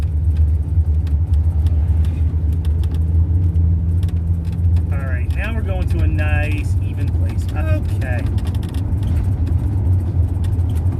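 A vehicle driving over rough rocky terrain while descending in New Mexico, its steady low rumble running loud and continuous throughout, with people talking over it inside the cabin.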